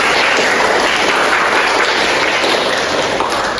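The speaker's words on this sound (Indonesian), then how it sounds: "Tepuk tangan untuk teman-teman" Classmates applaud together during a midwifery student group presentation, a dense, steady wash of clapping that stays loud and continuous throughout, with no clear speech on top.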